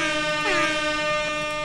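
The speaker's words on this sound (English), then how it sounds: "we need an air horn for that one." A loud, blaring air horn sound effect played as a celebratory blast during a card game match, one sustained brassy honk with a brief pitch bend, alone without talk.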